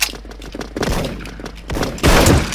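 Rifle shots from an M110 SASS in the online shooter Special Force, a few sharp reports with thuds and gunfire around them, the last one loud and close, with no talk.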